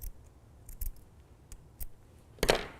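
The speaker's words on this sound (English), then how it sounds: "I'm going to cut a slit right here" Scissors snip a slit through folded T-shirt fabric: a few short, close, crisp cuts, then one louder, longer slicing snip at the end, with no talking.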